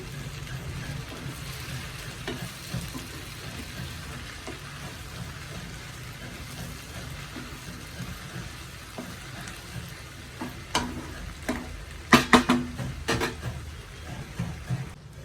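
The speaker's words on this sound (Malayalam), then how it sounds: "അടച്ചു ഒന്ന് വേവിച്ചെടുക്കാം ഇടയ്ക്കിടയ്ക്ക് ഇളക്കി കൊടുക്കണം" Breadfruit curry simmering in a pan, a steady low sizzle and bubbling throughout with a few sharper scraping clatters of stirring near the end.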